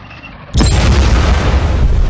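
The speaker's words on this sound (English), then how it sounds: "Your tank ran over a landmine and is now damaged." A tank running over a landmine in the Red Crucible Tanks game sets off a sudden loud explosion, a heavy boom with a long rumbling, crackling tail that holds loud to the end.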